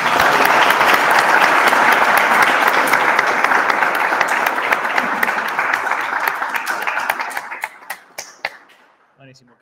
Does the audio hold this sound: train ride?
no